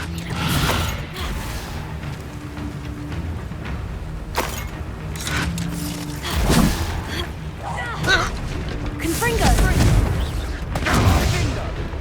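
A spell cast in the video game Hogwarts Legacy, arriving as a loud burst with a booming impact and mechanical crunching over game music, followed by further crashing hits.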